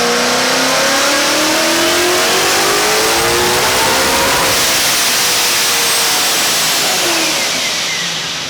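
A Procharged supercharged Mustang engine revs hard and loud, pitch climbing steadily with a whining supercharger tone rising over the roar before easing slightly at the end.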